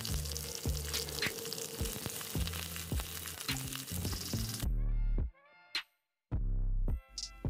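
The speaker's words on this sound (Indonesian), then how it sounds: "Dan kalau minyak gorengnya sudah panas, ini langsung saja kita tumis semua bahan rempahnya" Spices sauté in hot oil in a wok for Aceh-style shrimp gulai, a loud crackling sizzle with clattering stirring that cuts out abruptly, leaving brief bursts of frying.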